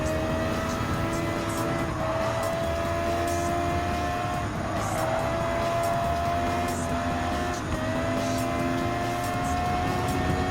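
Volkswagen Beetle Group 3 race car in Gran Turismo 7 holds a loud, steady engine note throughout, with its pitch climbing and dropping at several gear changes, and no talk over it.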